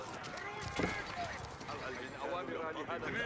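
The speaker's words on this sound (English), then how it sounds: "Horse archers chasing down here." Horse archers galloping in Age of Empires II give quick hoof clip-clops under a commentator's steady talk, with game sounds mixed in.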